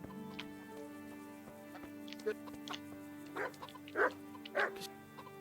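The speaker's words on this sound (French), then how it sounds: "Pourriez-vous m'aider à dresser mon chien?" Dog barking in the medieval video game Kingdom Come: Deliverance, heard as a few faint, short barks later on, set against a quiet steady in-game ambience with a soft low hum.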